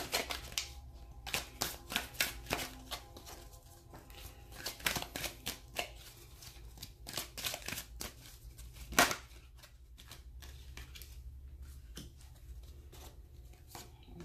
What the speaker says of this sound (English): I'm going to pull some Romance Angel cards